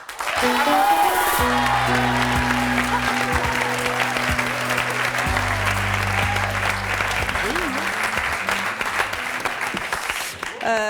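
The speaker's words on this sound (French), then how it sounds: "Je vous demande de les applaudir très fort." French television studio audience claps and cheers to welcome fashion specialists, loud sustained applause with a few whoops, while music plays underneath.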